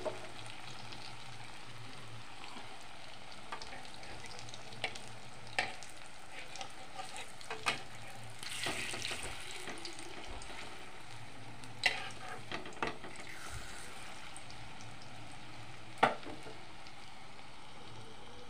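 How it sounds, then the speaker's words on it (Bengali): Pieces of fish fry in hot oil in a pan, a soft continuous sizzle broken by scattered clicks and stirring scrapes, fairly quiet and without voices. "এখন একে একে মাছগুলি ভেজে নেব।"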